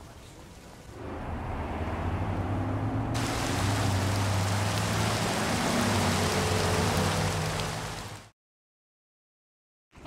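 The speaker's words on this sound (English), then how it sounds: "It's saying something when the rain in Saints Row 3 looks better than in Cyberpunk" Steady, dense rain hiss from the Saints Row 3 video game, loud and continuous with a low rumbling undertone, running for most of the stretch before cutting off abruptly to silence.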